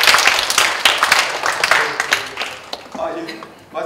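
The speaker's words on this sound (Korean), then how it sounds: "상세한 설명을 해주신 우리 김수영 코치님한테 큰 박수 부탁드리겠습니다." Audience claps for a coach at an academic conference on therapeutic horse riding, dense and fairly loud at first, then thinning toward the end as a voice starts speaking.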